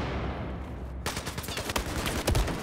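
Close gunfire in Battlefield 4 during a point-capture match, a sudden sharp burst after a brief lull followed by repeated rapid shots and louder heavy impacts near the end.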